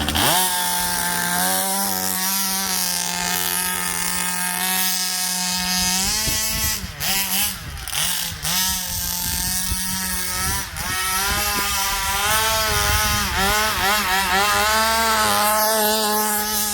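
A small 45cc gas engine on a Baja 5B RC car roars loudly and continuously nearby, its pitch rising and dipping as the throttle is worked, buzzy and raspy throughout.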